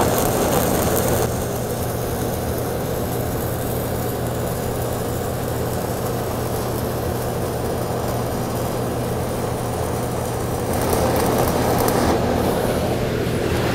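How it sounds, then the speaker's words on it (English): Stick welding 1/4 inch steel plate with a 1/8 inch 7018 rod on an Everlast Power i-MIG 253DPi in stick mode, a steady close crackling buzz with a low hum, running continuously with a brief rise near the end. "let's make sparks. And I'm running some 1/8 inch 7018 stick in it."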